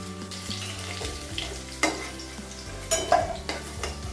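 Potatoes fry in oil in a kadai for a Bengali chicken kosha, giving a steady close sizzle broken by a few sharp clinks and scrapes as they are stirred.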